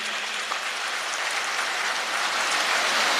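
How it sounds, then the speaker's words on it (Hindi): A crowd at the inauguration of a cow hospital at a gaushala applauds in honour of the cow mother: steady, dense clapping that holds at an even loudness throughout, like a wash of noise without pauses. "एक बार गौ माता के नाम जोरदार ताली बजाइए सभी।"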